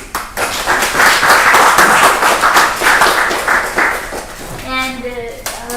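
An audience at an academic workshop claps for Professor Sanjeev Biswas, a brief burst of close, fairly loud clapping that swells and then tapers, with a voice starting to speak as it fades near the end.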